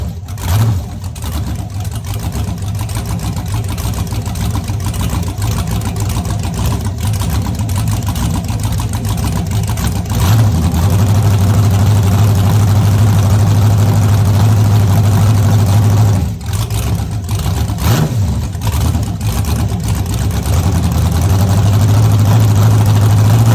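A rebuilt iron-block 5.7-liter 350 LS1 engine runs loud and close, holding a deep rumbling idle with a couple of blips of revving along the way.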